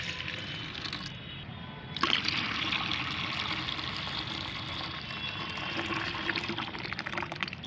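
Homemade liquid fertilizer is poured into a container of water, a soft continuous trickle that strengthens after a faint start and keeps flowing steadily, with no voices.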